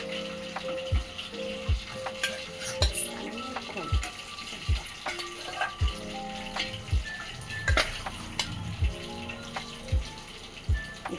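Chicken pieces being dropped into hot oil for a chicken fry, a steady watery sizzle with repeated splashy bursts roughly every second as pieces go in, fairly close.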